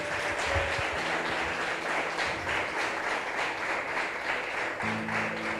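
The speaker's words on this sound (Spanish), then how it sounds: "Dele un fuerte aplauso al Señor." A church congregation gives a long burst of applause, a dense, even clatter of many hands with faint sustained tones humming underneath, and no speech.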